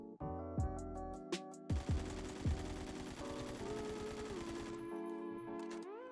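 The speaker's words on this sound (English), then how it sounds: "This is the stock AKM," A stock AKM rifle with no attachments fires in Phantom Forces: a rapid, steady automatic burst of quiet shots under tonal background music, with a few single shots before it.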